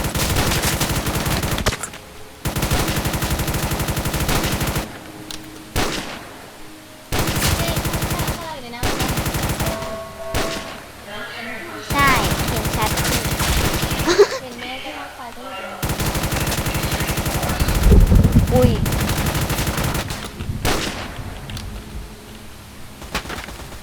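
Rapid game gunfire in the Roblox game The Island Reborn, bursts of automatic shots repeating loudly through the scene, with brief pauses between volleys and talk mixed in at times.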